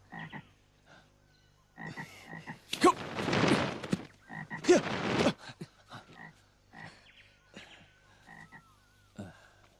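Frogs croak repeatedly, with loud rasping bursts and a chorus of shorter calls, close and clear, suggesting a frog demon in a Ramayana drama.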